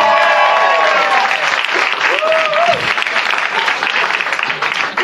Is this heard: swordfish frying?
no